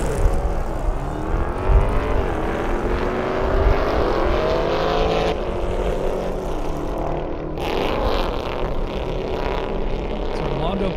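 A BMW M5 and a Ford Fairlane race down an airstrip, their engines roaring loud and steady throughout with a pitch swell as they pass, while a commentator talks over the noise.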